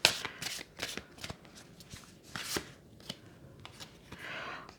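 Tarot cards shuffled close by, quiet flicking riffles and soft slaps in irregular bursts, with a faint rustle at the end and no talking.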